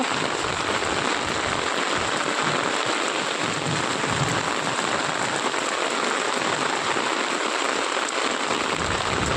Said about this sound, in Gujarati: વરસાદની વાયરો છે પવન સાથે ભાઈ વરસાદ ચાલુ જ છે